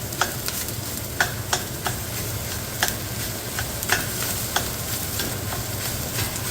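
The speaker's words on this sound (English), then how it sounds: "put in a pound of ground pork. And we're just going to brown this stuff up" A pound of ground pork browns in a pot, a steady low sizzle broken by regular sharp scrapes and taps of a utensil stirring, with no one talking.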